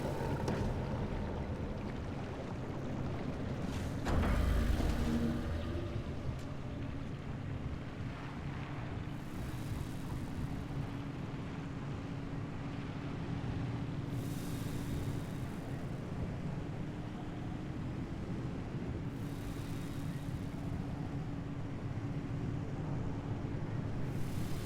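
Steady road rumble from inside a car driving on a road trip, with a continuous low drone and wind-like hiss and no voices.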